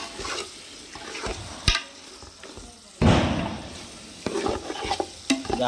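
Salted mutton curry is stirred in a pot for a biryani, with a ladle scraping and clanking against the metal over a steady sizzle. Several louder knocks stand out, and a voice talks faintly underneath.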